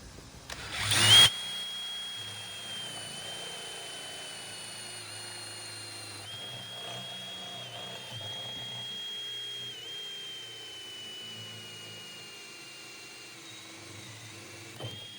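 A 1 3/8 inch (35 mm) core bit bores through the plastic wall of an X-Treme bait tank, giving a steady whining drone with a faintly wavering pitch that runs throughout after a brief loud burst at the start.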